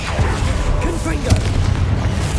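A Confringo fire spell blasts in Hogwarts Legacy, giving a deep booming burst amid ongoing game sounds while a voice calls out over the action.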